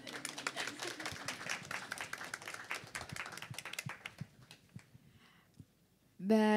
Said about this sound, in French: Oui, applaudissez.